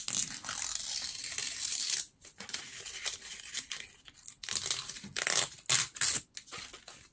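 Paper is torn by hand in several bursts for a dimensional printable-art craft, each rip a close, crisp tearing rustle separated by brief pauses, with no talking.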